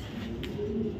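A 2022 young racing pigeon coos in a low, continuous rumble, close and steady, with no voices.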